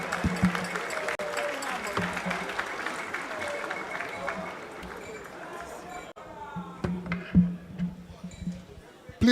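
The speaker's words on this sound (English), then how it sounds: "A round of applause, please, as he joins us on stage." An audience claps at the grand finale of the National Science and Maths Quiz as a guest joins the stage, a dense wash of applause that thins out into scattered claps and some voices toward the end.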